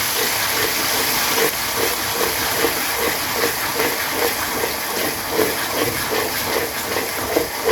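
Ginger-garlic paste sizzles in hot oil for a spicy jhal muri masala, a steady close hiss and crackle that fills the whole stretch without any talk.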